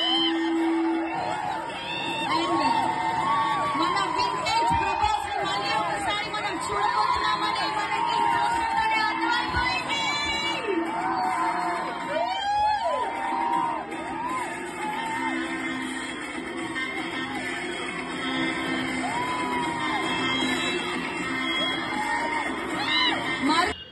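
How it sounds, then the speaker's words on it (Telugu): Fans crowd around the launch of a huge LED digital cutout of Prabhas for Raja Saab in Bhimavaram, shouting, whooping and cheering in a dense, continuous roar with scattered shrill yells and whistles and some voices mixed in. "అరుపులు, కేకలు, పేపర్లు, గోల, హడావిడి వేరనుకోండి, మామూలుగా లేదు, రచ్చ రచ్చ చేసేసారు"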